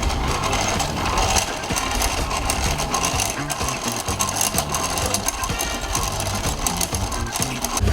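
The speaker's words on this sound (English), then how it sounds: "you are going to use the right hand to wind it clockwise" A hand-cranked bobbin winder spins thread for kente weaving, giving a steady, continuous mechanical whir and light clatter with a faint rhythmic ticking throughout, fairly close and loud.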